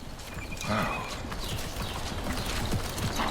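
Clip-clop of a two-year-old, 16-hand horse's hooves, a steady repeating rhythm of close, fairly loud steps over a noisy outdoor background.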